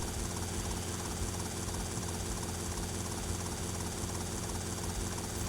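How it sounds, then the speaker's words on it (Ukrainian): Helicopter in GTA Vice City flying steadily, a constant loud whirring rotor and engine drone that holds evenly throughout with no talk over it. "Ми гелікоптером швидше долетимо до типографії копи нас не доженуть."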